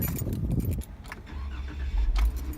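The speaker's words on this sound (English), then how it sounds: "now if I try to start the Jeep" A Jeep with its coolant at 215°F cranks briefly with a jangle of keys, then its engine catches and settles into a steady idle close by.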